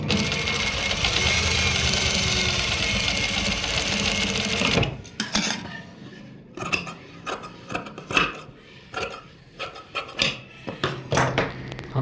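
A sewing machine double-stitches a pocket, running in a steady loud whir for several seconds, then stopping and restarting in short choppy bursts with pauses between.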